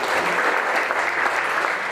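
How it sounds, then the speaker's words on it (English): A crowd at a county fair senior recognition ceremony gives a continuous round of applause, dense overlapping clapping from many people at a steady level throughout the short stretch. "Let's give her a round of applause as well"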